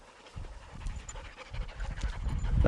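Hunting hounds pant hard and fast after a chase, rhythmic close breaths building in loudness, with a faint clink or hoof-like tap here and there.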